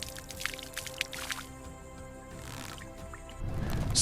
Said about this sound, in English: Wet river silt runs slowly down the deep wrinkles of the massive body.